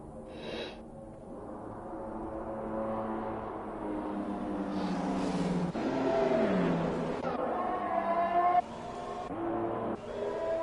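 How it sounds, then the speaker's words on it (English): Formula 1 engines during qualifying at Bahrain in the F1 2021 video game, featuring an Alpine and a Ferrari, a high whining engine note rising through gears with abrupt shift drops, moderately loud, no voices. "4 minutes left of Q1 as the Alpine chases down the Moz Monster in that Ferrari"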